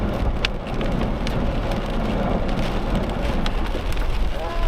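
Rain falls on a car, heard as a dense, steady patter of drops with scattered louder taps on the body and glass, a continuous wet hiss close around the listener and no talking.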